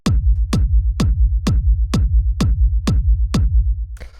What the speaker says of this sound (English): So this is a pretty standard rumble kick.